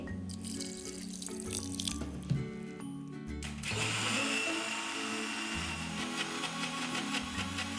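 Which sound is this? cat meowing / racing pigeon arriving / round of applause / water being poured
water being poured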